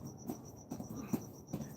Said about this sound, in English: I swear I hear crickets.